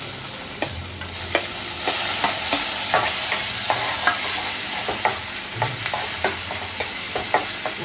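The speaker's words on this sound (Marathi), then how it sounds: "आता ही फोडणी परतता कांदा टोमॅटो नरम होता" Onion and tomato tempering sizzles steadily in hot oil in a kadhai, with repeated scraping and clinking stir strokes from a spoon running throughout, close and fairly loud, no voices.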